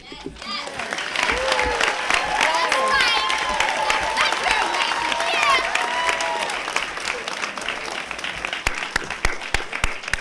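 Graduation ceremony audience applauding a valedictorian, a full crowd clapping steadily with cheers and whoops rising over it, fading into scattered claps near the end.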